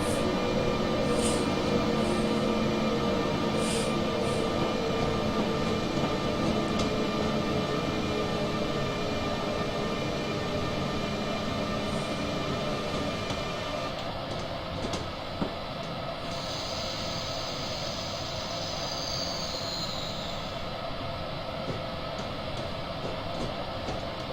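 A BNSF locomotive and train in the Train Simulator 2016 game, a steady rumbling roll with a constant engine drone that shifts tone partway through, heard continuously without speech.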